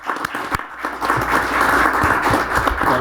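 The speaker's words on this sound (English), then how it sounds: "Let's give our public works employees a round of applause." Applause for public works employees at a city board of directors meeting in Arkansas, a steady room-filling patter of clapping lasting about three seconds with a few sharper claps near the start.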